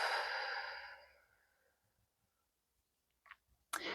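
Deep breath out during a breathing exercise: a long, close, airy exhale that fades over about a second and a half, then quiet with a couple of soft clicks and a short breathy sound at the end.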